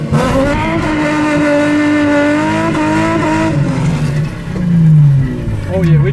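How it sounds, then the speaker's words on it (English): A Nissan 350Z with a swapped engine revs and pulls away while the clutch is tested, the engine note climbing and falling steadily through the run with a rising pitch near the end, heard from inside the car with voices talking over it. "Let's test the clutch out real quick."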